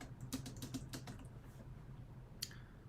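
Fingers type on a computer keyboard during desktop software setup, a close burst of quick, uneven key clicks that slows and thins out, ending with one sharper isolated tap.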